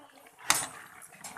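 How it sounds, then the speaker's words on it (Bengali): A lid set down over a pan of katla fish curry on a gas stove gives one sharp metallic clink with a short rattle, followed by quiet kitchen background. "দেখুন কিছুক্ষণের জন্য ঢাকা দিয়ে রেখে দেবো।"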